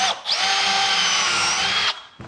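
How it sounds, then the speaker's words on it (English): A power drill whirs steadily for nearly two seconds as it bores a hole through wood for a wood duck box, close and loud, then stops abruptly. "drill a hole"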